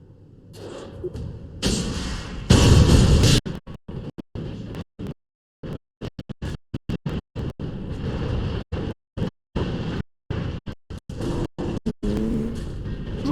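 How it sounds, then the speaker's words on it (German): Rocket explosions in a rocket-building video game, a loud rumbling burst up front followed by a chopped series of booming crashes and thuds. "So viele Explosionen."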